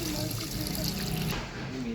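Water pours into a cooking pot for chicken tinola, a steady close splashing rush that eases slightly near the end.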